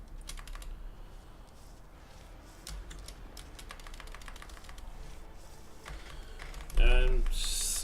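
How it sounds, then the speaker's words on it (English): Computer keyboard typing heard loudly through a headset: rapid, close clattering keystrokes in bursts, with a voice talking over part of it. "even I hear my keyboard through the headset, which is weird"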